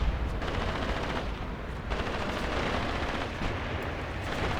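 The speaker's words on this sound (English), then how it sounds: "Everybody's shooting at this guy." Gunfire in the Graviteam Tactics war game, with machine guns and rifles all firing at one target in a continuous rattling barrage, loud and dense, with occasional heavier bursts.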